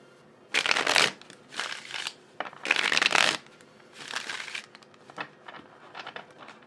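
Tarot cards shuffled by hand in four or five close, crisp bursts of riffling and sliding, each a second or so long, separated by brief pauses with lighter handling between.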